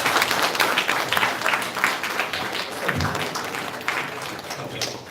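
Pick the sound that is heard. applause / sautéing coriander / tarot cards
applause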